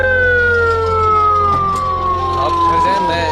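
An ambulance siren wails loud and close in one long continuous tone that slides slowly downward as the vehicle passes, with road rumble underneath.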